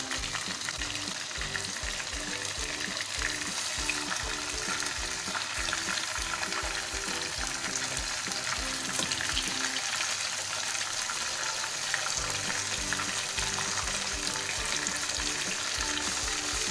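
Fish pieces sizzle and crackle steadily in hot oil over a high flame, with occasional stirring and turning, a dense continuous frying hiss with no talking.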